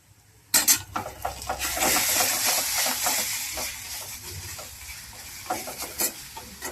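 Radish and onion vegetable dish gets stirred in a pan with a metal spoon, clinking scrapes against the pan over a steady soft sizzle, close and fairly loud.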